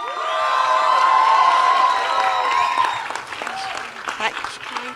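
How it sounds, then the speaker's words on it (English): A crowd in a large hall claps and cheers, with high whoops and shouts riding over loud, dense applause. The clapping thins slightly toward the end. "Can we have a huge round of applause?"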